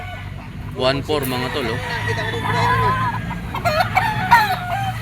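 Gold peacomb yellow-legged stag rooster crowing loudly at close range at a market, one drawn-out crow followed by clucks, with people talking and a crowd murmuring throughout.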